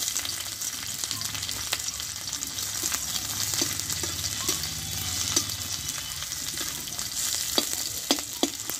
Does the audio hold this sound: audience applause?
no